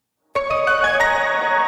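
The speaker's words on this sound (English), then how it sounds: "This is a harp." A high-pitched harp plays a quick run of plucked notes in an Asian-sounding melody, each pluck sharp at onset and ringing on, heard clearly and alone.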